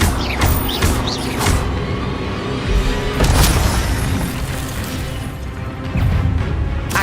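Fiery Incendio spell blasts in the Hogwarts Legacy video game, several loud whooshing bursts and booming impacts with crackling debris over continuous battle noise, no talking.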